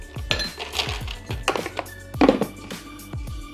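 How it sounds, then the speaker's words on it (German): Ice cubes drop and clink one after another into a glass cocktail mixing glass, making a close, bright series of knocks and rattles with short pauses between them. "kühle ich ihn vorerst noch das Rührglas mit einigen Eiswürfeln"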